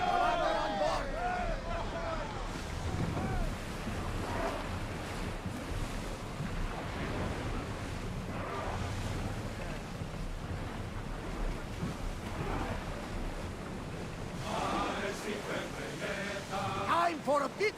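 A ship sailing over ocean waves in the video game Assassin's Creed Odyssey, a steady wash of surf and wind with creaking and splashing, continuous and moderately loud, while a person talks over it.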